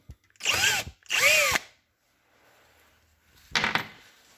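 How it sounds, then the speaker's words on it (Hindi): A power drill bores into the center of a broken bolt in two loud, whining bursts with a rising pitch, then a pause and a shorter third burst, close by and with no talk. "तो मैं इसके अंदर ये ड्रिल कर रहा हूँ।"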